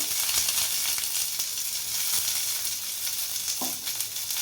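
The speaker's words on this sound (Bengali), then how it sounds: "এর মধ্যে দিলাম কারিয়া পাতা, একটু সরষা" Curry leaves and mustard seeds are added to hot oil for a tomato chutney, producing a steady, bright sizzle with a brief scrape near the end.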